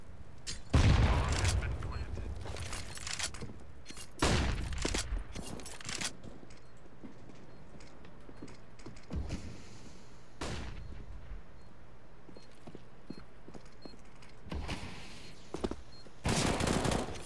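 FAMAS rifle fire and other gunshots in a competitive Counter-Strike match, several sharp bursts scattered across the stretch with quieter gaps, beneath a commentator's voice.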